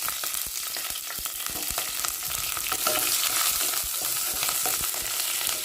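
Two green chillies frying in a hot pan, a steady loud sizzle with crackling pops and scraping stirring strokes throughout, close and without speech.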